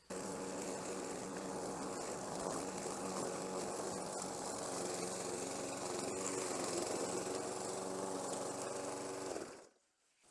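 A walk-behind lawn mower engine runs steadily on bumpy, steep grassy ground, a loud, even drone for about nine seconds that cuts out abruptly near the end.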